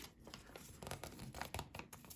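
Paper seed packet of tomato seeds being torn open by hand, a rough crinkling rip with several short tearing bursts at close range, no talking.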